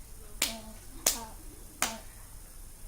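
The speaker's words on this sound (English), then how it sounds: "Clap it." Three sharp hand claps spaced about a second apart, each marking a syllable of a word during a children's reading lesson on sound breaks, close and isolated with quiet between them.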